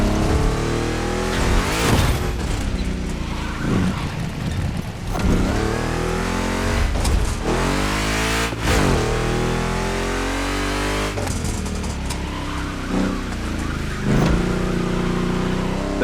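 A big-block car engine in The Crew Motorfest revs hard and loud, rising and falling through repeated sweeping pulls over about sixteen seconds, with no talking.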